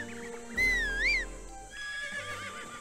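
A horse in The Legend of Zelda: Breath of the Wild gives a loud, close whinny with a rising and falling pitch, followed by a second, quieter neigh, over faint game background sound.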